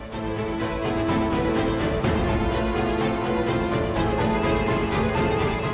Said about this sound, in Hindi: गोपिका मुझे क्लासरूम से फोन कर रही है।